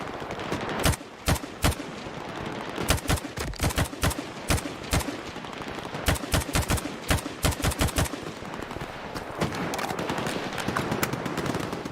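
Malyuk rifle fires paired two-round bursts in quick succession, each pair a sharp, loud double crack, repeating irregularly with short gaps and no talking.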